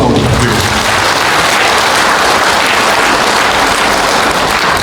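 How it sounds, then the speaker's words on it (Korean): A Buddhist temple congregation at a regular dharma service gives volunteers a warm round of applause, a loud, dense, roaring wall of clapping that stays constant and saturated throughout. "자원봉사로 수고하시는 우리 형제 여러분에게 뜨거운 박수 한번 부탁드리겠습니다."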